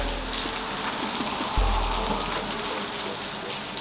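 Meatballs frying in oil in a pan, a loud, dense sizzle and crackle that runs continuously, close up, with no voices over it.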